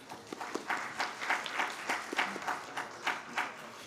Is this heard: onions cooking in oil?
no